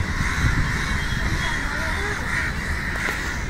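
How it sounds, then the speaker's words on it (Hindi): A large flock of crows caws loudly and continuously outdoors where one crow is tangled in kite string, the harsh calls overlapping with people talking in the background. "कौवा कितने सारे आले"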